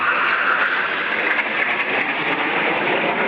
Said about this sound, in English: Each of them has about 15 seconds to showcase their planes and style.